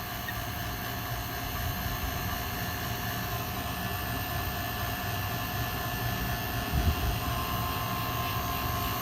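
A vacuum pump hooked to the AC system of a 2003 GMC Yukon runs with a continuous, steady droning whine and low rumble, close and unbroken, with no talking.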